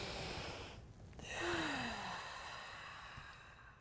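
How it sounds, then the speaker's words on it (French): Deep breathing in a laughter yoga session, with a long, close, airy exhale followed by a brief pause and a slow, soft inhale, heard alone. "Inspire et on expire."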